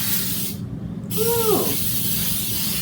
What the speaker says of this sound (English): I'm just going to give it a quick spray